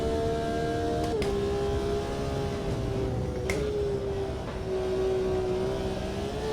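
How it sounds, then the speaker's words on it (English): Formula Renault-style race car engine in a Megane-based racer from the Automobilista 2 sim, a steady loud engine drone with brief shifts in pitch, heard alone. "I'm guessing it's like the Formula Renault engine in the back of a Megane."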